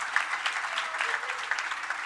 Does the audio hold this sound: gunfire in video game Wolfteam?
no